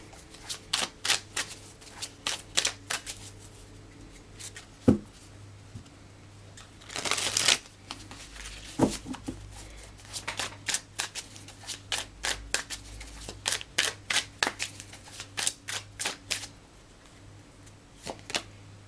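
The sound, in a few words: shuffling cards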